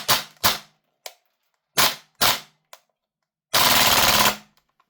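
A VFC Umarex HK UMP .45 gas blowback airsoft rifle fires several sharp single shots and short bursts, then one long rapid full-auto burst, loud and close with silence between.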